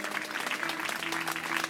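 A congregation claps together in a small village church in Sonora, a steady crackle of many hands filling the room with no voices over it.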